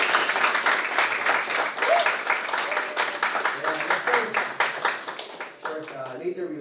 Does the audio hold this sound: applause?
yes